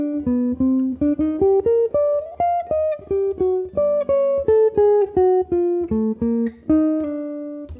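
A single jazz guitar plays a melodic line, with clearly separated plucked notes rising and falling in a steady rhythm. It is close, clean and unaccompanied, with no talking.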